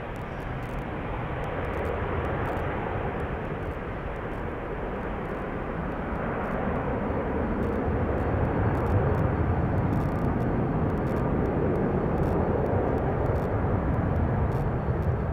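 A ten-year-old Belgian TUI Boeing 787 Dreamliner on flight 511 to Montego Bay takes off from Schiphol's Polderbaan, a steady, loud, broadband jet roar that holds and slowly builds with no talking.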